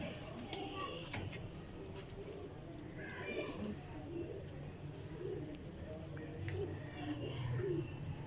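Rampuri pigeons coo softly in repeated low, rolling calls, with several birds overlapping at moderate distance amid light chirps and background clatter; someone talks over them.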